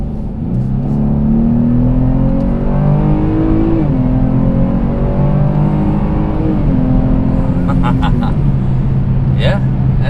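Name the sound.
2021 Chevy Blazer RS SUV accelerating hard in sport mode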